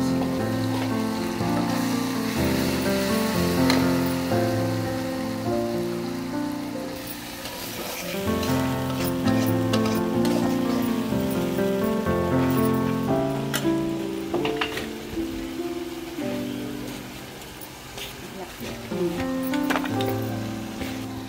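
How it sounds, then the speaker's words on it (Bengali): Rohu fish with garlic paste fries in a pan, a continuous loud sizzle and crackle like rain, steady throughout with music playing over it. "এটাকে ভালো করে ভেজে নেব, গোল্ডেন কালার করে নেব"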